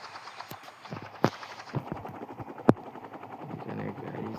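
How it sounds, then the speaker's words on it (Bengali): A fighter helicopter in the video game Rope Hero gives a low mechanical drone, broken by a few sharp clicks and cracks over about four seconds. It sits at moderate loudness, with no clear speech. "এটি হলো ফাইটার হেলিকপ্টার।"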